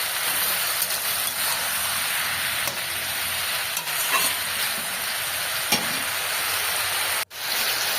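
Spinach and kalibaush fish cook in a hot pan with a dense, steady sizzle and hiss, broken by occasional soft scrapes and knocks of stirring and one short clatter near the end.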